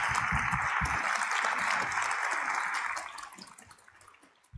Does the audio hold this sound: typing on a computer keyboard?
no